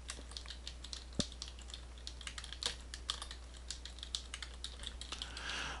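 Keys clatter steadily on a computer keyboard as a scenario name is entered into an Excel spreadsheet, a quick, close, even run of light taps over a low constant hum, with no voices.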